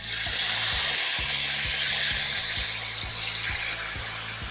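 Chicken pieces sizzle and fry in a hot pan for shawarma, a steady bright crackle with rhythmic scraping taps as they are stirred and turned.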